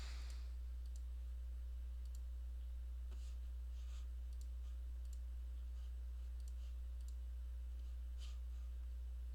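Sparse, faint computer mouse clicks land at irregular intervals over a low steady hum, each click short and crisp, with no talking.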